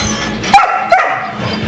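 Two sharp barks from a dog, spaced about half a second apart, stand out over a steady hum of room noise and background bustle.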